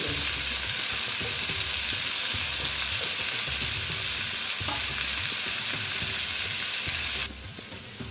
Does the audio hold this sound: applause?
no